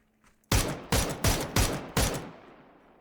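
Five loud, sharp video game gunshot bursts ring out in quick succession, each with a short echoing tail, with no talking.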